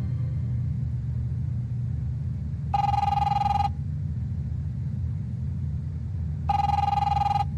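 A telephone rings twice in The Wolf Among Us video game, two loud, evenly spaced electronic bursts over a steady low rumble of background ambience.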